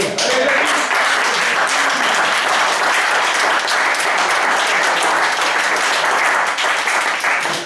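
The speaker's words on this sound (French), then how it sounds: "on lève son verre et on applaudit Jackie." A crowd breaks into sustained applause, dense and loud, many hands clapping steadily without pause for several seconds.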